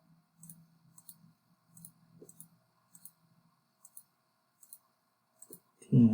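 Calculator buttons click one at a time in a quiet room, eight or so sharp taps at an even pace, with a faint low voice murmuring under the first half and a louder thump at the end.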